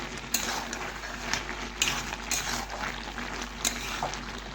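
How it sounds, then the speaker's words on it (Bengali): Bottle gourd curry being stirred in a pan, a steady close scraping and rattling of the spoon against metal over a constant background hum, with a few sharper clicks and no voices. "এখন আবারও একটু ভালোভাবে নাড়াচাড়া করে নিচ্ছি"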